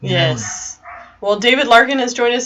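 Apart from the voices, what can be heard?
dog barking in the background through an open studio door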